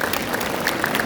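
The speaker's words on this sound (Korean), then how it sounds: "여러분 청년대표 두 분께 다시 한번 감사의 박수를 보내주시기 바랍니다." A crowd applauds the two youth representatives at a civic assembly launch at the Kim Dae-jung Center in Gwangju, a short wash of clapping heard from within the hall.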